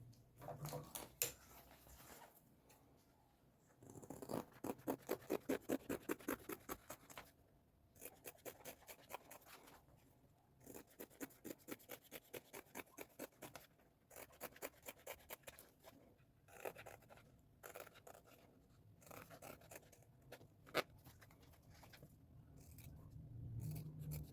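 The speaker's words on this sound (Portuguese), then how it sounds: "Agora, eu vou fazer o recorte e a gente começa a costurar." Scissors snip through fabric for a zipper pouch in a quiet room, a long run of rapid, faint, close cuts and scrapes with short pauses and no talking.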